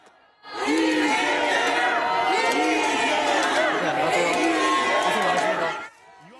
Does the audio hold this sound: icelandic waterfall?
no